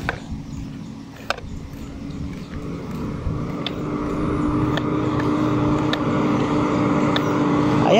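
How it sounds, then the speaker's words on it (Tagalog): A vehicle passes on a rural farm road, its engine rumble building steadily and growing louder toward the end, alone with faint outdoor background. "May dumaan na sasakyan."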